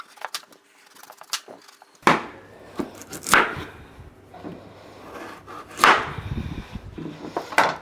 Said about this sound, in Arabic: ونكمل بقى تقطيع